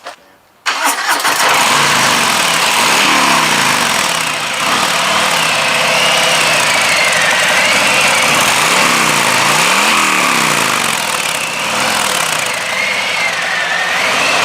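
A 2024 Harley-Davidson Fat Boy motorcycle engine cranks and fires, then settles into a loud, steady idle with slight rhythmic throbbing and a few gentle rises in pitch, close up, with no one talking.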